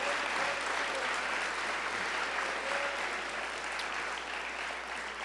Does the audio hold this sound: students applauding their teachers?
yes